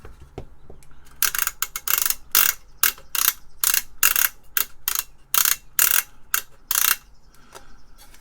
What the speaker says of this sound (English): Sorry for the loud clicking. Nice switches.